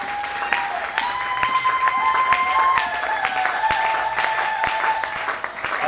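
A church congregation at a Sunday service applauds steadily and loudly for several seconds, dense clapping with crowd noise and a sustained tone or whistle ringing over it.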